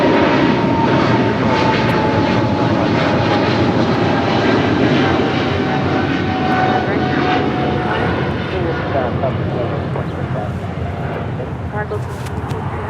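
United airliner crossing at LAX airport, a steady loud engine drone with a faint whine running through, heard alongside talk throughout.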